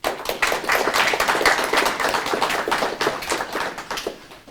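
A lecture audience applauds to welcome the speaker, steady dense clapping from many hands that holds throughout and eases slightly near the end, with no speech over it.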